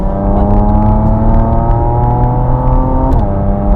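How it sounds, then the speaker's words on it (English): Porsche Macan GTS engine accelerating hard, a loud, close, rising drone with clear tones climbing in pitch and a brief shift dip near the end, with no talk over it. "it's just such a nice car, effortless power, great noise"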